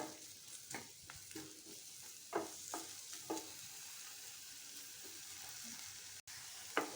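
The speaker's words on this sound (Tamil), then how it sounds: "பெரிய வெங்காயத்தை போட்டு நம்ம இந்த மாதிரி நல்ல எண்ணெயிலேயே வதக்கணும்." Large onions sauté in oil, sizzling softly and continuously while a utensil stirs them in scattered scraping taps, faint and close.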